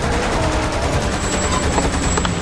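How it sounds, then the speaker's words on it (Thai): Machine gun fire in the video game Lost Planet 2, a loud continuous rapid burst of shots at a steady fast rhythm, close and dense, with no voices. "ยิงด้วยปืนกลก็ได้อะ"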